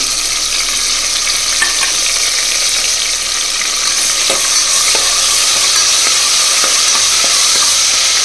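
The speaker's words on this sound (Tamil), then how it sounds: "எண்ணெய் காஞ்சோடனே நம்ம வெங்காயம் கருவேப்பிலை கொடுத்துக்கலாம்" Onion, curry leaves and ginger garlic paste crackle loudly in hot oil, a dense, unbroken sizzle up close with faint stirring taps underneath.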